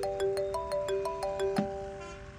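A mobile phone ringtone for an incoming call plays a bright repeating melodic pattern of short tones, fairly close and clear, ending abruptly with a soft thump.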